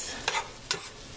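An oyster mixture cooking in a hot pan as it is stirred, with two quick scraping stirs over a low, steady sizzle and no talk.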